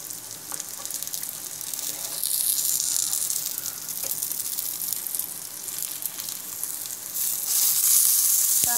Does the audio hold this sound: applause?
no